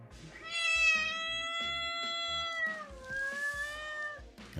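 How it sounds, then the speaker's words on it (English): A cat meows in a long, drawn-out call with a slight falling tail, loud and close, standing alone without talk. "That's the sound a cat makes when it bounces"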